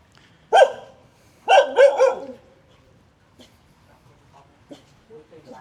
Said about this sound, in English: All the temple dogs now getting all bent out of shape.